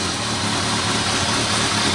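A cold Kawasaki ZRX 1200R motorcycle, fitted with an ignition advancer, idles steadily at close range, its low engine rumble holding an even, continuous tone with no talk.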